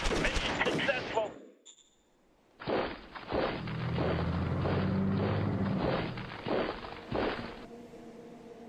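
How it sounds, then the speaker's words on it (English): Gunfire in the strategy video game Shadow Empire, a burst of rapid shots followed by a sustained clattering volley of repeated cracks with rumbling undertone, moderately loud. "We're definitely taking gunfire."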